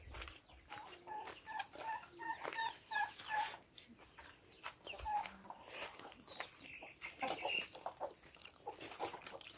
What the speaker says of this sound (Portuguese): quatro, cinco galinhas chocando